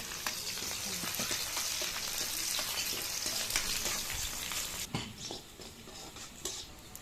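Onions fry with dried red chilies in a hot tempering for bohar bhaji, a steady close crackling sizzle that sharpens with a few stirs, then eases slightly; no talk.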